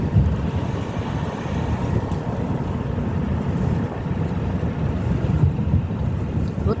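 Steady wind buffets the microphone over a low, continuous rumble of a boat moving across water, loud and unbroken throughout.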